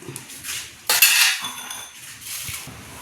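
A spoon scraping and clinking against a pan while coconut, dried chillies, garlic and curry leaves are stirred, a few brief metallic strokes with a louder scrape near the middle.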